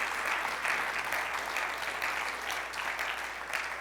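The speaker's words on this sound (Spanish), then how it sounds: "Dale el aplauso fuerte al Señor." A church congregation applauds loudly and steadily for a few seconds, a dense, even clatter of many hands.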